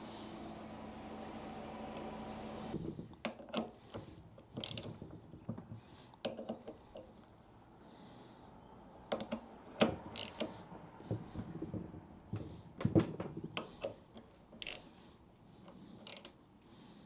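A bolt is threaded and tightened on the head of a Hypro 9910-D30/AR30 pump during a rebuild, giving quiet irregular metallic clicks and ratcheting taps after a short stretch of steady hum.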